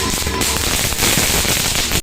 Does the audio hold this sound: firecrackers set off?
yes